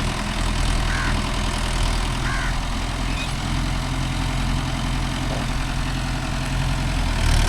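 A Mahindra Yuvo Tech Plus 585 DI 4WD tractor works a five-point cultivator, its diesel engine a steady, loud, rumbling drone that holds evenly throughout with no voices.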